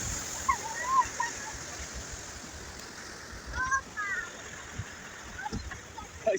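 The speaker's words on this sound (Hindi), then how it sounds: "ग्लेशियर्स है और नीचे से पानी जा रहा है" Glacial meltwater runs beneath snow and ice on the way to Ratti Gali Lake in Kashmir, a soft, steady outdoor rush with faint scattered sounds on top.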